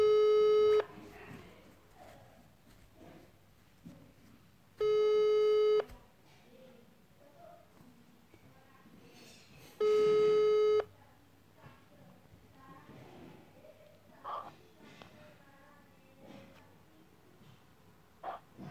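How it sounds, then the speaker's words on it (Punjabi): Telephone call tones: three long steady beeps spaced about five seconds apart, loud and clear, with quiet talk and a dog barking faintly in between. "ਸਿਮਰਨ ਕਾਲ ਕੱਟੋ, ਮੈਂ ਤੁਹਾਨੂੰ ਵੀ ਕਾਲ ਕਰ ਲਾਂ ਫਿਰ"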